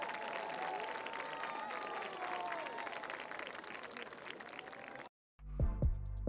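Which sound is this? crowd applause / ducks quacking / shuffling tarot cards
crowd applause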